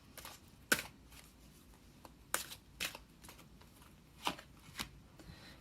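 Oracle cards shuffled by hand in reverse rather than fan-shuffled, giving a few sharp papery riffles and soft slides at irregular intervals, close and fairly quiet with no talking.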